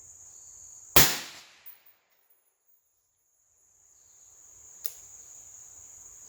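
One sharp rifle crack rings out from a shooter firing off a table and fades quickly into quiet. Crickets trill steadily in the background, and a fainter snap follows a few seconds later.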